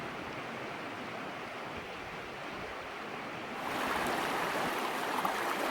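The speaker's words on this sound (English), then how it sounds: "The creek is getting significantly smaller as I go upstream." Harper Creek in Pisgah National Forest, North Carolina, flows as a steady broadband rush of water, swelling louder partway through and continuing unbroken with no voices.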